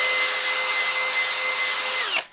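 A Metabo HPT 36V hammer drill runs close up with a steady high-pitched whine and rushing motor noise for about two seconds, then winds down quickly as it stops.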